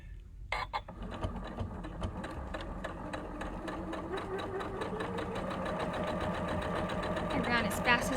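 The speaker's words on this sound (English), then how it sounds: "And then I'm going to sew from that." A sewing machine stitching quilt fabric for flying geese blocks runs in a steady rapid mechanical chatter through most of the stretch, close and fairly loud, with speech over it.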